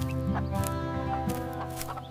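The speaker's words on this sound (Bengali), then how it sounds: "কি রে মোরগ, কি খুঁজছিস?" A rooster clucks close by on a rural morning, several short throaty clucks scattered over a steady hum of background sound.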